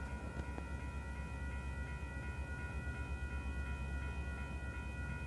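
A Union Pacific westbound train passes at Haggin Junction, giving a continuous, even rumble with a steady tonal whine held throughout.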